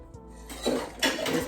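Calendula salve is stirred in a container, with a few close clinks and scrapes of a utensil against the sides over a quiet background.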